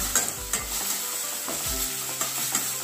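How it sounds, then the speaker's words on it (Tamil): A raw mango and rice mixture sautéed in a pan with asafoetida, giving a quiet steady sizzle punctuated by several soft scraping stirs of a spoon, with no talking. "நல்லா வதக்கணும்"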